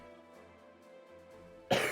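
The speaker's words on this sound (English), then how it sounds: "Still coughing" A single sharp cough bursts out near the end, close and loud, after a quiet stretch of faint background hum at a game developer's computer setup during a livestream.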